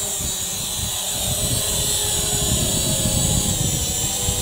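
Ciclope drone taking off and flying over a lake, a steady dense whirring propeller drone holding constant and fairly loud throughout, with no voices.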